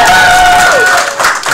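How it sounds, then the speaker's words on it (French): A crowd applauds and cheers at a school debate event in a short, loud burst of clapping with a few whistle-like tones over it. "Madame Abby, il y a plus d'applaudissements de ce côté"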